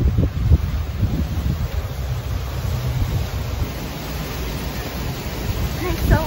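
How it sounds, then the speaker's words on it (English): Strong wind buffets the microphone in a garden, a loud continuous roar with gusty surges throughout and no clear talk. "It's so windy."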